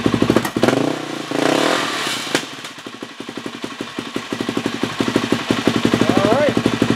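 A Suzuki LTZ400 ATV engine revs and idles up close, a steady mechanical drone with rapid pulsing firing beats and some clatter, rising in intensity toward the end.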